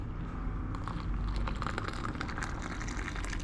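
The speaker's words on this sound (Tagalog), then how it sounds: "Ito, lagyan ko na ng tubig na mainit." Hot water poured into a cup of white coffee makes a steady, close liquid rush lasting a few seconds, with no talking.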